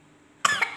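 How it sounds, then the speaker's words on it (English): A single close cough bursts out suddenly after a moment of near silence, with a brief rough follow-through. "Sorry, I was coughing."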